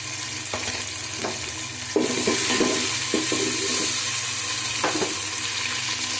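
Bay leaf, cinnamon, cardamom and raisins fry in oil in a pot for plain pulao, giving a steady close sizzle broken by several stirring clatters and scrapes.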